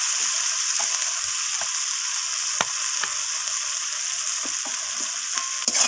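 Cabbage curry masala with sugar sizzles steadily in a pan while being stirred, a continuous hiss of frying with occasional sharp clicks and scrapes of the spoon, close and alone.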